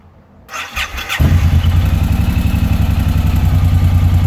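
Starter motor cranks a motorcycle fitted with a new hydraulic clutch kit, first a few clicks and short whirs, then a long rhythmic loud grinding churn that goes on without the engine catching.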